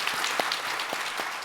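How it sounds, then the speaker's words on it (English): Audience applause for the speakers at the close of a knowledge management conference session, a steady wash of clapping with a few sharper individual claps standing out, fairly faint and distant. "let's give a big round of applause to our speakers"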